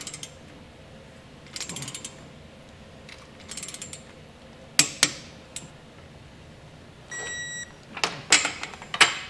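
Ratcheting wrench clicking in short bursts while bolts are tightened in a cross pattern on a Roadmaster Exact Center steering stabilizer on a 2021 Jeep, with sharp metallic clanks in between, close and fairly quiet.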